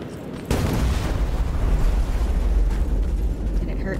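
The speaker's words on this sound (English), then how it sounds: "Wonder if I chuck a grenade in there, will that kill him?" A grenade explodes in the video game Terminator: Resistance, a sudden loud boom followed by a sustained rumbling roar that slowly tapers over several seconds.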